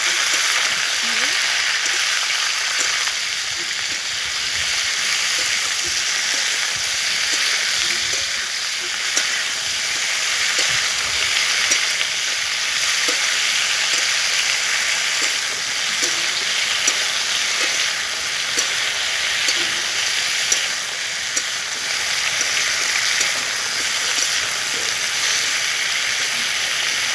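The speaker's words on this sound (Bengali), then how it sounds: "দিয়ে একটু নেড়ে চেড়ে" A pan of food frying and being stirred gives a long, even sizzle and hiss that holds steady throughout, with small scrapes and clicks scattered through it.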